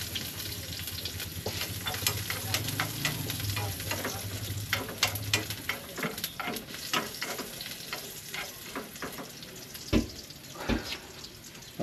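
Garlic sautés in a hot pan for a Filipino green bean and meat dish, sizzling and crackling steadily up close with occasional utensil clinks, and no talk.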